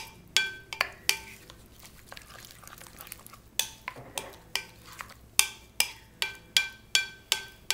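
A spoon stirs shrimp cocktail ingredients with fresh chopped cilantro in a bowl, producing a quick run of close, sharp clinks against the dish, then a steady rhythmic series of scrapes and taps.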